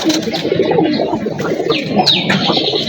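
An old traditional breed of domestic pigeon cooing up close, a continuous loud throaty coo with soft chirps over it, no talking.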